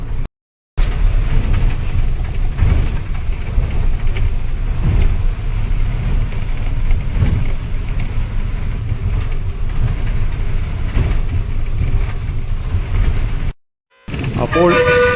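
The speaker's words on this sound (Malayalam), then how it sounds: "നമ്മുടെ ബസ് സേലം റൂട്ടിലേക്ക് ഓടിക്കൊണ്ടിരിക്കുകയാണ്" Tamil Nadu state bus running on the route from Chittoor toward Salem, heard from inside as a continuous mid-pitched engine drone with road rumble, fairly loud and steady, with a couple of short dropouts.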